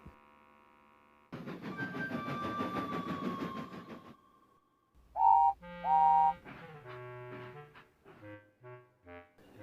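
Small steam engine train heard in a shunting yard, with a rumbling run of wagons and rolling noise, then several loud whistle-like toots and a string of brighter chiming tones.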